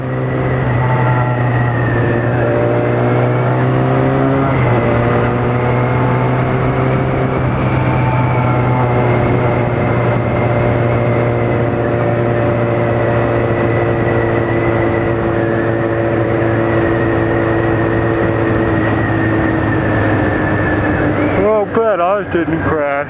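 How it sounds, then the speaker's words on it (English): A 250 motorbike engine holds a steady droning hum as the clutch is let out with a little gas, rising slightly in pitch while it pulls away, loud and close throughout. "let off your clutch till it starts to grab, give it a little gas, and keep letting the clutch out slow."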